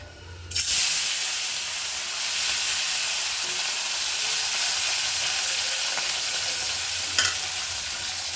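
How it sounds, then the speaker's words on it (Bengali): Fish frying in hot oil in a wok, a loud steady sizzle and hiss that starts abruptly and holds close and continuous throughout, with no talking. "কড়াইতে তেল বসিয়ে দিয়েছি, তেলটা গরম হয়ে গেছে, এবার মাছগুলোকে ভেজে নেব"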